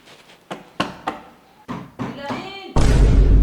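Several irregular knocks land on a door, each a sharp, close thud, before a sudden loud burst of broadband noise takes over at the end.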